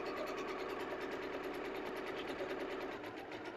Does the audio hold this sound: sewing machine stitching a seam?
yes